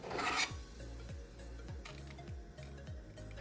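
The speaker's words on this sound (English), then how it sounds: "I need to grate some more lemon zest for the gremolata" Lemon zest is grated on a kitchen grater in quick, rhythmic rasping strokes, close and fairly soft, with a louder scrape at the start.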